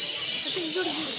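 A bird at Mysore zoo gives a brief, soft cooing call over a steady hum of background noise.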